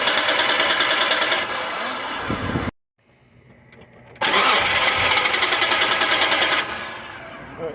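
Starter cranking on a 1993 Mitsubishi 3000GT SL with a no-start fault, a loud steady whirring churn that cuts out abruptly, then resumes after a short pause and runs on before easing off.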